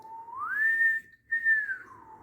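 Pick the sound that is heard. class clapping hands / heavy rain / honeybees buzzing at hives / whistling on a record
whistling on a record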